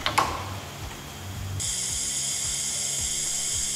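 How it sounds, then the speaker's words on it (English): A pneumatic tube bender bends tubing for the horizontal stabilizer leading edge of an EMG-6 aircraft. A few mechanical clicks give way to a steady, loud hiss of air with faint low rhythmic thumps underneath. "Pull the handle to actuate the pneumatic bender."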